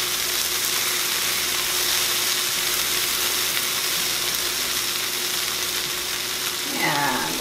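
Butter sizzling steadily in a hot pan while cooking haluski, Polish buttered noodles with cabbage, a dense even hiss that stays loud and close throughout, with a brief stir or clatter near the end.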